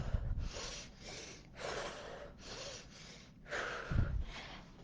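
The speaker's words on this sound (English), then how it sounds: "So this is how we inhale." A person breathing deeply during a breathing exercise, a series of close, airy inhales and exhales in slow rhythm, quiet and alone with no talking.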